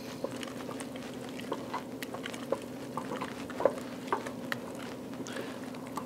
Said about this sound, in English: We're gonna add about a big heaping tablespoon. Give that a stir.